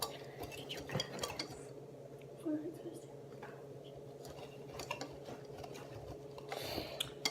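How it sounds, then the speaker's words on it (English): A whisk works through a cornstarch mixture tinted with six drops of food coloring in a bowl, giving steady light scraping and clicking against the bowl. "We are whisking it all together."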